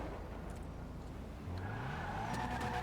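A taxi cab in GTA V accelerates and skids across the road, engine noise swelling with a tire screech near the end, loud and close with no talking.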